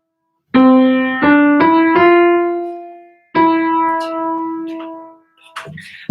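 A keyboard plays a short improvised melody of clear sustained notes: one note, two quick notes, then a held note, a pause, and a further phrase that fades out, close and loud with no talk.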